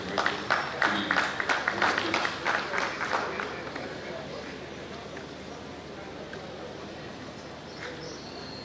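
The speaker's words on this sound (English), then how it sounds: "Please give you a round of applause for him while he makes his way to the" A conference audience at a Lagos builders' event claps in a burst of applause that fades out after a few seconds, and a voice speaks over the room afterward.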